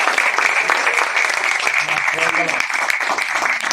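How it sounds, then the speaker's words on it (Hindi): Congregation at a religious gathering clapping after being urged to applaud more, a dense, loud stretch of clapping that runs on steadily while a voice speaks over it. "थोड़ी ज्यादा तालियां बजा दे, बड़ी कंजूसी से।"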